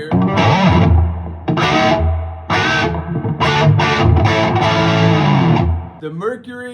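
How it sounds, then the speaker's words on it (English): A guitar plays through a vintage tube guitar amp with a working reverb tank and a Mercury output transformer, giving loud, distorted chords in choppy bursts with washy reverb tails, close and dominant. "Yeah, the reverb tank works, as you can hear."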